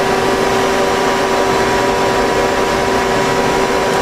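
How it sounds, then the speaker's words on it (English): A helical gear cutter spins and twists while cutting a part on a machine in a machine shop, giving a loud, constant mechanical drone with a steady tonal hum and no pauses. "This cutter spins as it's cutting, and it also has a twisting motion to put that helical into it."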